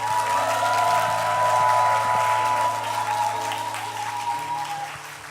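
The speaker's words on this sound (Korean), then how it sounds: "박수로 모시겠습니다" Sustained audience applause in a church worship service, welcoming a pastor to the stage, steady dense clapping throughout that slowly fades near the end, with a faint tonal hum beneath.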